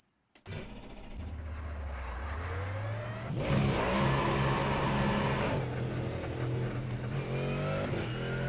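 A Mustang GT3 engine in a racing sim game at Road Atlanta starts up and revs steadily, rising and holding a loud, buzzy drone with pitch climbing through gears, steady and uninterrupted with no talking.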